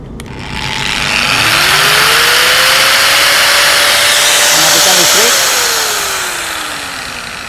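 A Gerinda Premier DG 850 angle grinder switched back on after power returns, whining up to full speed, holding a steady loud high-pitched drone, then spinning down as it is switched off.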